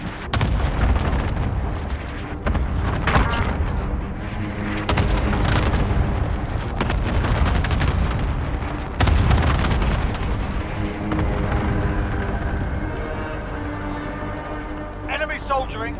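Video game cluster strike explosions, a series of loud booming blasts and rumbling bursts stacking over each other, with game voices talking over them.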